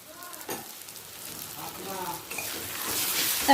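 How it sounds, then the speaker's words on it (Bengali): Ginger-garlic paste and green chili paste sizzle in hot oil in a pan over a lowered gas flame, a steady close frying hiss that builds louder toward the end, with brief stirring scrapes. "ভর্তি এক চামচ আদা রসুন বাটা দিয়ে দিচ্ছি হাফ চামচ কাঁচা লঙ্কা বাটা"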